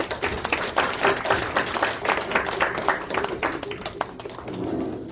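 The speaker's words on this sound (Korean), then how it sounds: "한번더 박수!" Sustained clapping from the crowd at a Songpa veterans' association security forum, many hands beating in a dense, even wash at moderate loudness that thins slightly toward the end.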